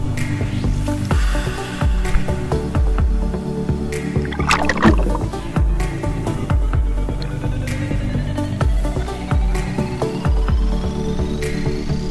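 Small motorboat carrying passengers to the Blue Caves in Montenegro, a steady loud engine throb and hum with water slaps, clatter and thumps of the hull, continuous throughout.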